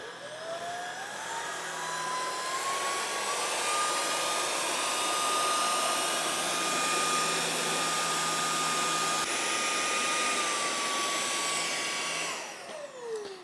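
A Lubluelu Mate 40 cordless stick vacuum runs along the baseboards, its motor rising to a loud, steady high whine that holds for about ten seconds before spinning down near the end.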